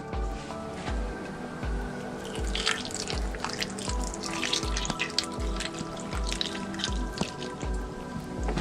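Water poured into an Instant Pot, a steady trickling and dripping pour running throughout at close range, with a light kitchen clatter and no voices.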